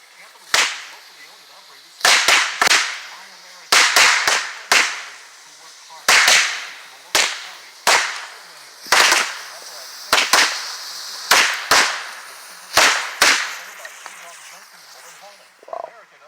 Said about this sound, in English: 12 pack of Wolf Pack heavy duty, high explosive, big loud bang firecracker.